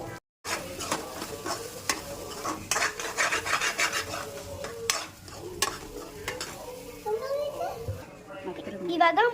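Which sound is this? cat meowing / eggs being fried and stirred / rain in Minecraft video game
eggs being fried and stirred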